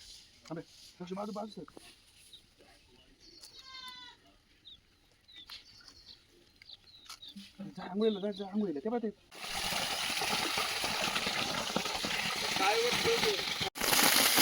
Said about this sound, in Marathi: मोटर लावलेली आहे आता इथे पाणी आलेली आहे पाणी आलेले आहे